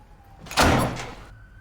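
A front door slams shut in a family home, one loud, sharp bang rising out of a quiet room and decaying over about half a second before the quiet returns.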